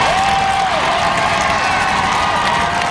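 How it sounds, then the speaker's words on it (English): A huge street crowd cheers at the Pittsburgh Penguins Stanley Cup victory parade, a dense, steady roar of voices with a whistle rising briefly over it. "A record crowd taking to the streets to celebrate the Penguins."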